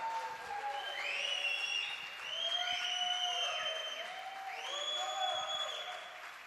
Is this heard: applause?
yes